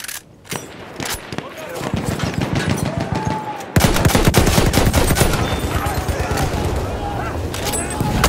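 Machine gun fire in the video game Battlefield 1, loud close bursts of rapid shots that grow denser midway, with booming impacts and a voice speaking over the battle.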